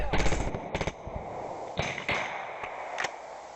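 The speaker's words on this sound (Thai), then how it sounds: "แล้วก็ยัดระเบิดลงไปแล้วก็ยิงยัดเข้าไปเรื่อย" Gunfire rings out during a special forces raid on a trench dugout: a fast burst of automatic shots, then several sharp single shots spaced apart, loud and close.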